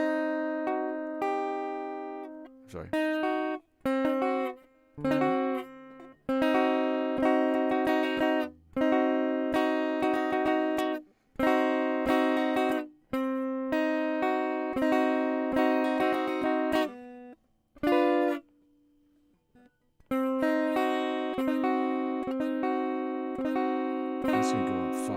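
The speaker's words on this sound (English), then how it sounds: "these are the diminished triads, so it's going to sound like this" A guitar rings out diminished triads as sustained chords and arpeggiated notes in separate phrases, with short pauses between them; a voice briefly speaks once.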